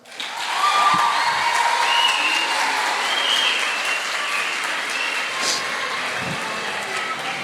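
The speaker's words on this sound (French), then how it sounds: "veuillez applaudir, l'équipe du pour" A student audience at a school debate applauds a team called onto the stage, with a broad, steady wash of clapping that swells quickly and carries on evenly, with a few scattered calls over it.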